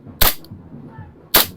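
A KJW KP08 1911 Kimber gas blowback airsoft pistol fires two sharp, loud cracks about a second apart, with quiet room noise in between.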